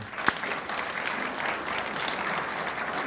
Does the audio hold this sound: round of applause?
yes